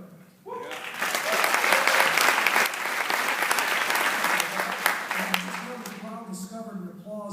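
Audience at a Young Americans for Liberty national convention bursts into sustained, loud applause after a line about liberty and the rule of law, the clapping swelling quickly and thinning near the end as a voice begins speaking.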